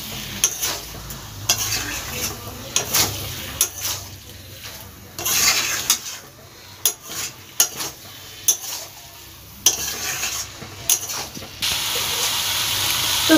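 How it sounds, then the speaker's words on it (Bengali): Fried potatoes being sautéed into a jackfruit curry in a pan: steady sizzling and hissing with repeated sharp scrapes and clinks of a stirring spoon, close and alone with no talk. "এই পর্যায়ে আমি আলুটা দিয়ে দেব, যে আলুটা ভেজে রেখেছিলাম। আলুটা দিয়ে ভালোভাবে কষিয়ে নেব।"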